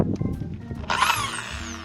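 A new log-splitting screw drill bit, bored well into wood and then run in reverse, gives a short whining power-drill burst. Brief grinding comes first, then a loud rising whine that slowly fades.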